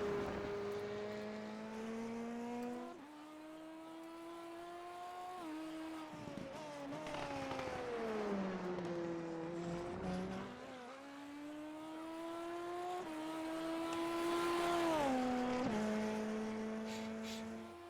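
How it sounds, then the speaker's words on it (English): Several race cars warming up on track at Elkhart Lake, engines revving and shifting through the gears in overlapping rising and falling tones, steady and fairly loud throughout with no talk. "A couple cars getting ready to warm up here, it looks like."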